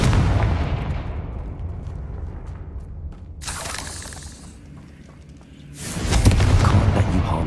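A Confringo blasting curse bursts in Hogwarts Legacy, a booming explosion swelling out of rumbling game ambience, with a second loud blast rolling in near the end.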